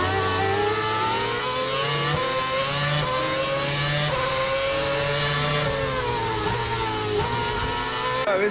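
A Formula One Lotus race car engine screams loudly and continuously as it accelerates, its pitch climbing through gear changes over several seconds.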